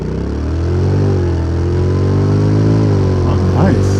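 A 2025 Honda NC750X DCT motorcycle accelerates hard from a standstill toward 100 km/h, its loud, close engine drone climbing and shifting pitch through automatic gear changes, with a rider talking over it.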